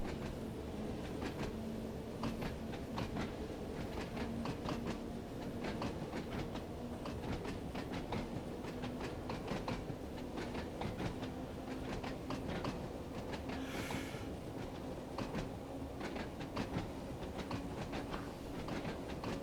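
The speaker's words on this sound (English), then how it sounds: "I'm enjoying the clickety-clack, clickety-clack." Train wheels in Train Sim World 4 on the Isle of Wight line, a steady quiet rumble with regular clickety-clack beats as the carriages roll over rail joints, with no talk.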